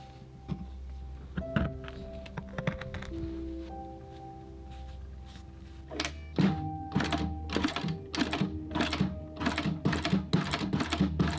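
Corners of a leather card holder are cut in a workshop, with dull thunks and mechanical clatter at first, then a rapid run of sharp, regular percussive knocks in the second half, close and fairly loud.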